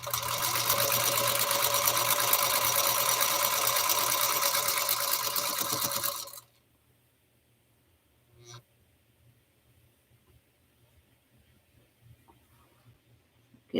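Sewing machine stitching quilt pieces together, a steady loud mechanical whir for about six seconds that stops abruptly, followed by quiet handling and faint clicks.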